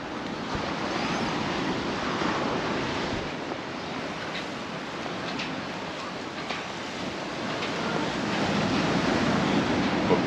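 Big waves crash on a sandy beach at Magaluf, Mallorca, a steady roar of surf with wind buffeting underneath, continuous and loud throughout with no voices.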